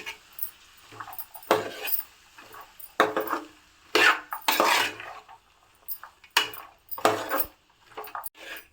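Broad beans are stirred in a pan over low heat, a spoon scraping and clinking against the metal in irregular bursts separated by short pauses, close and clear.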